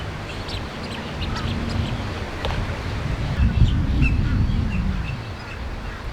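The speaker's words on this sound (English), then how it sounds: "there's a whole bunch of waterfowl here too" A flock of waterfowl at a Florida sewage-lagoon wetland gives a mix of quacks and chirping calls close by over a continuous background murmur, with the calling swelling louder partway through.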